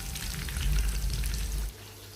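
Fish frying in hot oil for a crispy spicy masala fish fry, a steady close sizzle and crackle that runs loud and then drops to a quieter bubbling near the end, with no talking.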